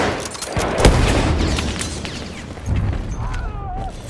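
Artillery explosions on the Somme River battlefield in the video game Battlefield 1, heavy booms over a continuous roar of gunfire, with a voice calling out briefly.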